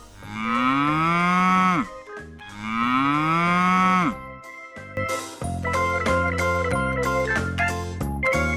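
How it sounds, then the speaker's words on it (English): A cow lows twice in long, loud, drawn-out moos from a farm-animal toy sound sequence, followed by bright, bouncy music. "Cow."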